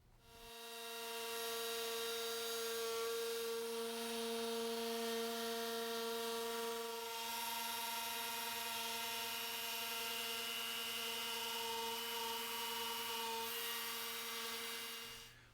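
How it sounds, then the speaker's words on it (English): A router with a flush-trim bearing bit trims excess copper sheet flush against a plywood edge for a walnut hall table top, giving a loud, steady high-pitched whine that runs continuously without pause. "we're going to be using a router with a flush bearing bit, and the bearing is going to rub up against the side of the plywood, and the cutter will trim away this excess copper"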